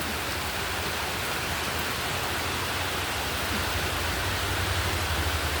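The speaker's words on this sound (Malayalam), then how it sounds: "അതുപോലെ മഴ പെയ്തു." Rain falls steadily and evenly, a dense, unbroken hiss with no voices.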